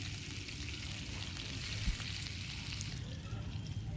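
Chopped onions frying in ghee and oil in a pan, a steady close hiss of sizzling with faint scraping from stirring, no talking.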